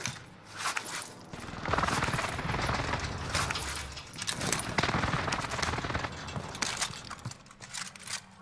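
An airstrike in the Warzone video game on Rebirth Island plays as a loud, sustained rattle of rapid gunfire and blasts with mechanical clatter that barely lets up, heard close and with no talk over it.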